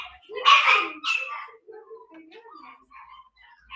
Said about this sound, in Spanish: aquí tengo una jauría de perros